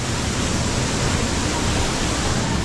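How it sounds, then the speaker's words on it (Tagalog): Steady broadband rush of a waterfall at a cold, clear river spot near Baliwag, loud and continuous with no voices over it. "So may talon na yun"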